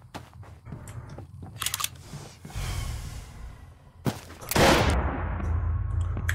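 Sharp gunshots in a co-op horror game set in a town, a few loud isolated cracks separated by quieter stretches, with a rumbling roar swelling near the end.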